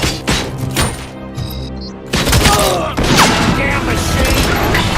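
Gunfire crackles in the RoboCop: Rogue City video game as loud bursts of repeated shots and impacts, with voices mixed in among the chaotic blasts.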